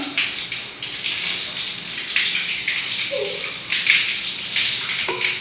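Water splashes and runs during washing with soap, a steady watery spatter close by with a few brief knocks and a voice occasionally heard.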